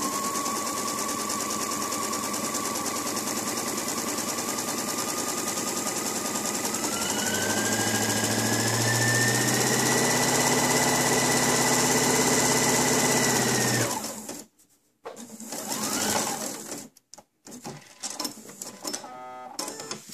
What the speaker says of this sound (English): I'm going to switch to zigzag and zigzag across that